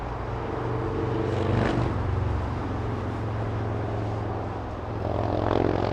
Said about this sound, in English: We have a cool Max exiting the runway right now.